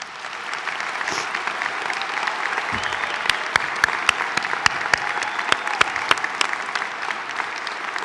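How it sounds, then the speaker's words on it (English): Winter commencement ceremony crowd applauds the graduates, a steady hall-filling clapping with scattered sharp louder claps standing out through the middle. "give them a round of applause"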